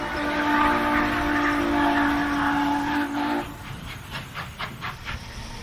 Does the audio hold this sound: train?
yes